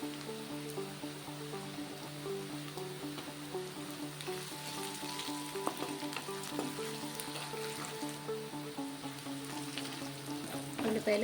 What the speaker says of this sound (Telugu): ఈ ఉల్లిపాయ పచ్చిమిర్చి కూడా బాగా ఫ్రై అయ్యేంత వరకు ఎర్రగొచ్చేలాగా ఫ్రై చేస్తాం